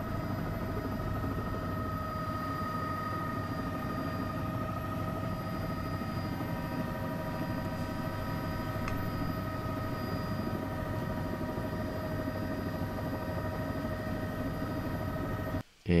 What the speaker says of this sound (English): That's what it's like being in a helicopter.